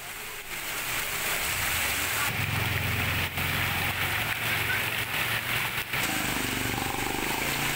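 Heavy monsoon-style rain pours down in Naushahro Feroze, a dense, steady roar of water hitting surfaces with a low rumble underneath, loud and continuous throughout with no voices.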